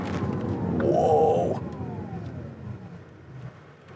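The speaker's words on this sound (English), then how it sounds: "Doing 50 miles an hour, I'm going to hit the brakes pretty good." A 2021 Porsche Taycan Turbo brakes hard from 50 mph, giving a brief tonal squeal or moan under road noise. The rumble then fades as the car slows.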